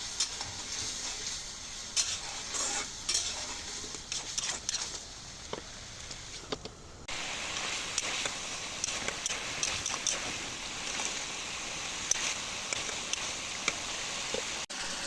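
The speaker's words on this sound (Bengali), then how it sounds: "কিছুক্ষণ নেড়ে চেড়ে চুলার আঁচ কমিয়ে দেব আর আস্তে আস্তে নেড়ে চেড়ে ভাজতে থাকবে" Minced beef frying and being stirred in a pan, a steady sizzling hiss with scattered scraping and clinking of the spatula throughout, close and moderately loud.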